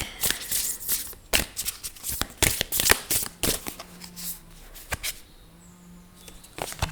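Tarot cards are shuffled in quick riffling bursts, a run of crisp, close flutters with brief pauses between.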